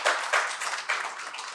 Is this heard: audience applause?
yes